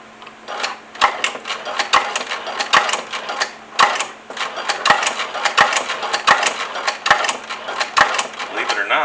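Home sewing machine stitching fabric on a stick horse toy, a rapid rattling mechanical run of needle strokes with brief regular pauses and clicks, close and steady throughout.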